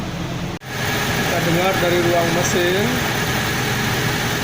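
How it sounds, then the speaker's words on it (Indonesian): A car engine idles with a steady, even hum, heard from the engine bay with no misfire. A faint voice briefly murmurs over it. "Kita dengar dari ruang mesin"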